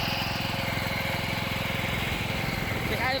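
A riding lawn mower engine idles steadily while it warms up, a close, continuous mechanical drone with an even pulsing rhythm that runs unbroken for the whole stretch.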